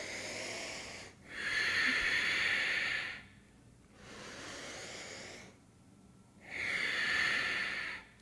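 Three long, forceful breaths pushed out through the nose during a yoga breath-of-fire sequence, each a loud breathy rush lasting about two seconds, separated by brief quiet pauses, close and alone with no speech.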